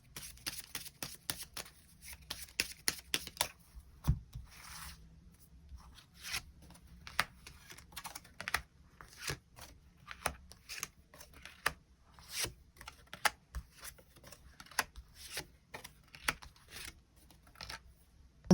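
Tarot cards are shuffled and drawn close up, with a long run of quick, soft riffling flicks and slaps in irregular bursts, faint and dry with no voice over them.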